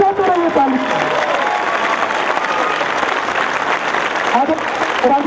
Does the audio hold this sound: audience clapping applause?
yes